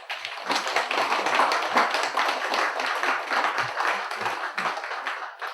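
A church congregation in Seoul claps together for several seconds, a steady patter of many hands at moderate volume with no voices over it.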